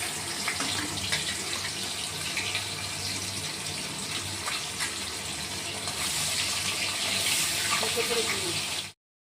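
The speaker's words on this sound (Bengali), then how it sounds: "এটা গরম হয়ে গেছে, আমি মাছ দিয়ে দিচ্ছি।" Rohu fish pieces dropped into hot oil in a wok, producing a loud, dense, continuous sizzle that holds steady for several seconds and then cuts off abruptly.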